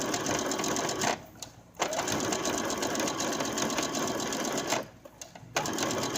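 A domestic sewing machine stitches robe fabric in steady, rapid whirring runs, pausing briefly twice before resuming. It is close and loud with no talking over it.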